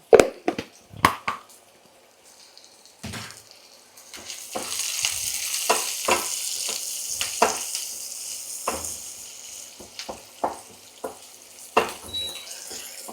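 Sliced onions sizzle and fry in a pan over lowered heat with salt added, with a steady hiss and repeated scrapes and clacks of stirring close by, with no talking.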